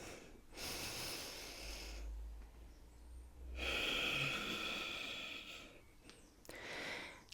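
Deep, audible breaths during a yoga flow, a long inhale and exhale through the nose followed by another breath cycle, close and fairly quiet with no talking.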